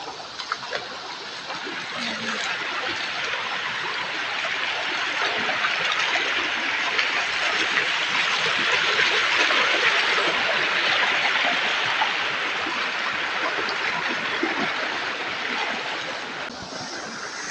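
Strong, steady rush of a river running high after flooding fills the whole clip, a continuous broadband roar with no voices.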